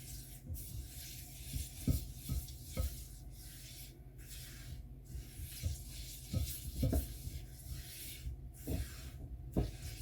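Soya mince is stirred quickly around a pan of hot frying oil, giving a steady sizzle broken by repeated scraping strokes of the spoon, close and fairly quiet, with no talking.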